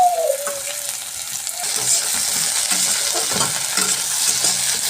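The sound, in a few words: potatoes added to fried chopped onions, sizzling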